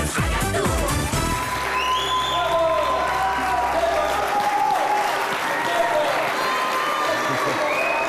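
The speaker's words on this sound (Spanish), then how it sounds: "Que viene muy bien para los antebrazos, lo de los aplausos" A TV game show studio audience bursts into sustained, loud applause, joined by crowd noise and some cheering, with brief background music or voices mixed underneath.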